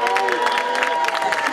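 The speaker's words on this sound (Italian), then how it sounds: "Facciamo un applauso alla giuria!" Festival audience clapping and cheering for the jury in a theatre, a brief burst of lively applause with crowd voices mixed in, close and fairly loud.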